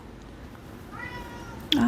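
An indoor cat lets out one short, loud meow close by near the end, after a stretch of quiet room tone in a sewing space.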